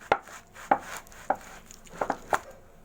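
A knife cutting through a pomelo, about six crisp, separate cuts with uneven gaps, close and fairly quiet, no speech.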